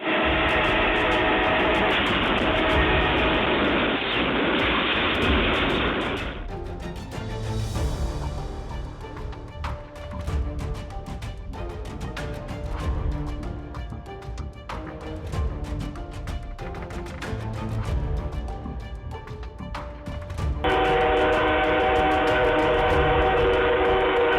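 A train rushes past, its loud roaring rumble broken by a horn blast and heavy clattering from the rail cars, with the roar swelling again near the end.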